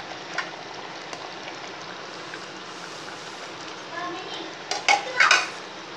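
Bottle gourd payasam with sugar is stirred in a pan, a soft steady scrape and bubbling that ends in a few louder metal clinks and knocks.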